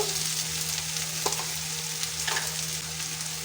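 Spice paste fries in oil for a bhola fish curry, an even close sizzling hiss with a few soft stirring scrapes, moderately loud and without voices.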